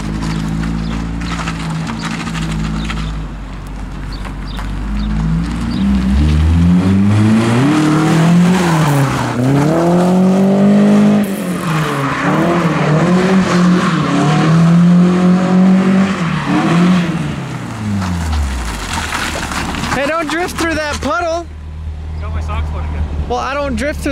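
A car drifts around a corner of a shop lot using the e-brake, engine revving up and down with tires squealing in long sweeping slides, close and loud, with a person talking over it.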